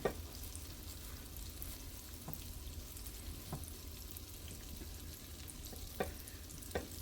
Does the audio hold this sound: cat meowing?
no